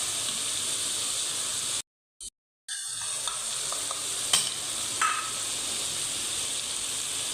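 Softened tomatoes sizzle steadily in a pan as turmeric, coriander and cumin are added for a daal with bottle gourd. The hiss is even and close, broken by a brief silent gap and a few faint clinks.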